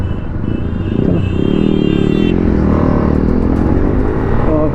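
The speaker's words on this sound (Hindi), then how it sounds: "BMW की फर्स्ट राइड कर रहे हैं" A BMW 310cc motorcycle engine on a first ride, a steady loud droning rumble that rises slightly in pitch as it pulls, continuous and close throughout.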